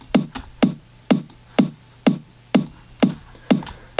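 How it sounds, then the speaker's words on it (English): A kick drum with most of its low end rolled off, so it thumps like a tight top layer, plays a steady four-on-the-floor pulse of eight hits, alone and upfront. "kick drum, which I've rolled off a lot of the bottom end on,"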